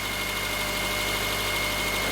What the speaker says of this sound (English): This engine runs a lot better. It runs smoother. The noise is no longer there.